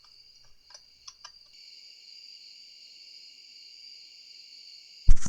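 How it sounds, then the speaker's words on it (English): Night crickets in the Stardew Valley video game, a steady high-pitched chirring drone that sets in after a few faint ticks and runs continuously, with a sudden loud thump right at the end. "you hear crickets now, and you normally don't get that"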